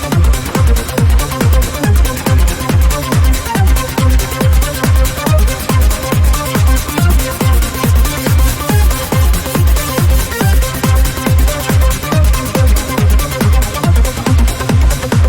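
A loud electronic dance track with a thick, buzzy JP8000-style supersaw synth chord over a steady pounding kick drum and busy looping percussion, no voices.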